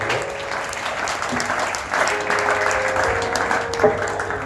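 An audience at a French-language church service breaks into loud, sustained applause with scattered cheers, a dense steady clapping wash that swells slightly midway and holds to the end.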